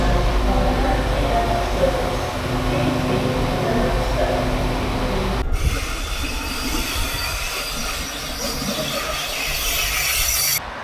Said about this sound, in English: I'm just at the train station now